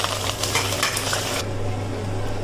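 Steady crackling sizzle of dried red chilies and curry leaves frying in hot oil, with a brief stir and scrape partway through, close and continuous.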